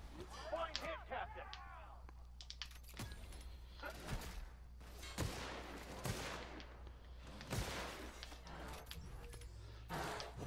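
Revolver gunfire rings out in The Outer Worlds during a firefight in the Boarst Factory, with repeated sharp shots in an irregular rhythm among other weapons fire and clattering. Voices talk over the shooting.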